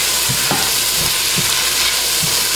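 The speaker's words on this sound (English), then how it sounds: "I'm going to sweat these for 30 seconds as well. Just stir them up." Collard greens and peppers sweating in a hot pan, a loud steady sizzle close up, with a handful of soft spoon knocks and stirs spaced through it, no speech.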